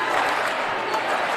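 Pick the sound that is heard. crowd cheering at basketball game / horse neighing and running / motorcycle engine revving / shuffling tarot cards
crowd cheering at basketball game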